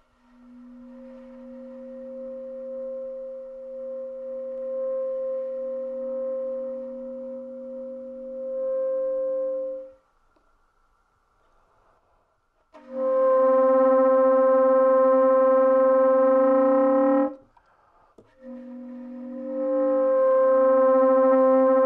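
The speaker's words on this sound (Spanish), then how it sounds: "A continuación presentamos un multifónico de 3 sonidos." Saxophone playing a three-note multiphonic: a held chord-like tone that stops, then returns louder and buzzier in two sustained blasts separated by a short gap, with no voices.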